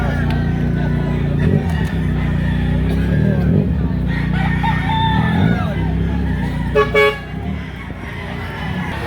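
At a chicken market in Lipa, Batangas, a rooster crows once loudly near the end over a busy background of engine hum, horn toots and people talking.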